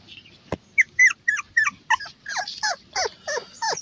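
Puppies, among them Shih Tzu, Beagle and Golden Retriever pups, whimper and yip in a rapid series of high, wavering cries, loud and close, after one sharp knock at the start.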